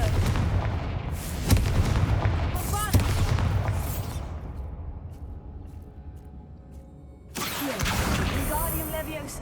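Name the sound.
Confringo spell blasts in video game Hogwarts Legacy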